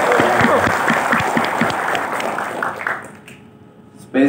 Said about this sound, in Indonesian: Tepuk tangan buat Pak Horas, perwakilan Kemendagri kita.